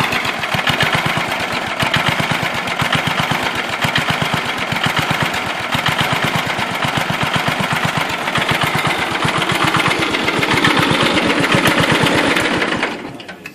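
A Broadmoor 728 riding tractor engine runs loud and steady nearby with a rapid, rhythmic chugging for several seconds, then cuts off abruptly.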